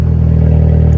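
A loud Volkswagen car engine idles close by just after start-up, a heavy, steady low rumble with an even pulsing throb and no pauses.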